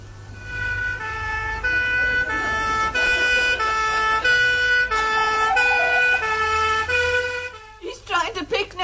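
A police car siren sounds loud and close in stepped, alternating tones that repeat for several seconds. It then cuts off abruptly into a brief burst of voices and noise.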